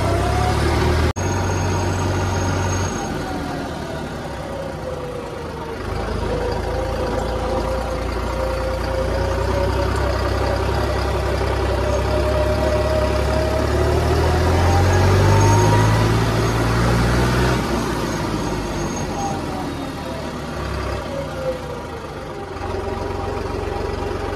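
A Sonalika 60 tractor engine runs steadily nearby, a continuous low diesel drone with slight rises and falls in pitch as the revs shift.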